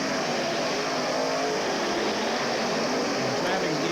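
A dense, steady roar of race cars running together down the back straightaway at a 1985 memorial race, a continuous loud wash of engines heard from trackside without a break.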